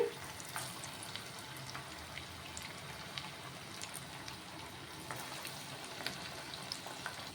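Moong dal and sago vadas frying in hot oil, a dense, even crackling sizzle with scattered brief pops, close and fairly quiet, continuing steadily with no one speaking.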